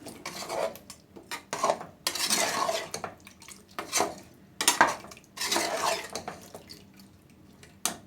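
A spoon stirs chicken wings cooked in coconut milk in a pot, giving repeated clinks and scraping strokes against the metal in uneven bursts with short pauses, fairly close and moderately quiet.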